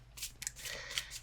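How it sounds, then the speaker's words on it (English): Tarot and oracle cards being shuffled by hand, a brief soft papery riffle with a few quick flicks and slides, faint and close in a quiet room. "Don't know why I'm shuffling."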